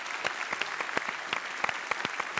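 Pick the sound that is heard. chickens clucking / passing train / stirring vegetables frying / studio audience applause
studio audience applause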